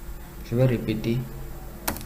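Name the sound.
pressing Enter key on computer keyboard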